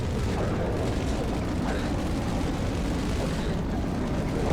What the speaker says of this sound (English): They're all explosives